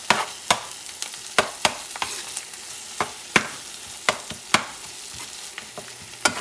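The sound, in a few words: stirring frying Mexican chorizo in a pan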